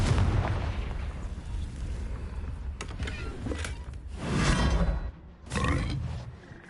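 Confringo fire-spell explosions in Hogwarts Legacy, rumbling blasts and crackling bursts over a dense roaring background, with two strong hits near the end separated by a brief dip.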